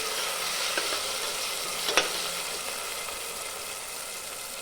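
Tomatoes and onions sauté in a pan with a steady broadband sizzle, and a few soft stirring scrapes rise briefly above it near the middle.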